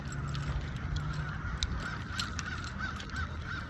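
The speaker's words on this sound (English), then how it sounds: "All these freaking birds out here." Many birds honk outdoors, with repeated goose-like calls scattered over a constant din of wind and background noise, at moderate distance.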